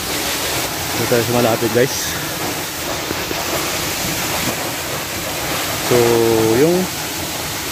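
Kanyangan waterfall near Ramon Magsaysay, Zamboanga del Sur, a constant loud rushing roar of falling water close by, with someone speaking over it in two short bursts.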